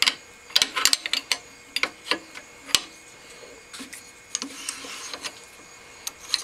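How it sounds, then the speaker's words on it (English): Sharp metallic clicks and taps come from a hand tapping machine as the tap and collet are pulled and swapped, irregular close knocks scattered across the stretch with quiet gaps between. "Pull the tap out, collet out, switch up to the 1/4 inch collet."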